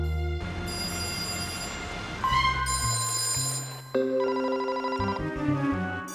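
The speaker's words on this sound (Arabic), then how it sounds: "سأهاتف الأنسباء الآخرين" A cartoon telephone rings on and on with no answer, a bright electronic bell repeating in steady bursts, close and clear with no one talking.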